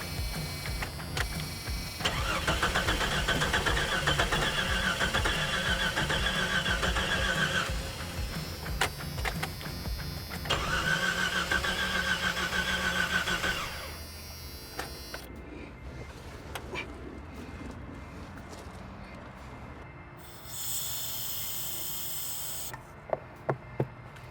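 An old Jeep Cherokee engine cranks over and over in a long, loud, steady churn, pauses, then cranks again before the effort drops away into quieter mechanical noise with a few sharp clicks near the end.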